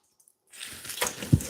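Salted cabbage squeezed by hand for sauerkraut, a short wet squish with liquid squelching out after a moment of silence, close and loud with one heavier squeeze near the end, no talking.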